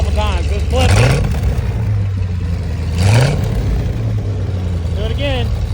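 A fuel-injected 1963 Corvette split-window engine idling with a steady low rumble, blipped twice to sharp rising revs about two seconds apart, each falling back to idle, heard close with some talk underneath.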